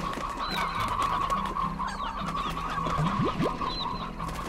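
Stony hens and a rooster cluck in the video game Slime Rancher: repeated short clucks and squawks scattered over a steady, loud game backdrop, with no talking.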